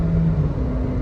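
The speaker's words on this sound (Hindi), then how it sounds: "अब इसने आरपीएम उठाया, देखिए" Suzuki Jimny automatic driving at highway speed around 110 km/h, its engine holding a steady drone with a rising tonal hum as revs climb, over continuous road and wind noise, no talking.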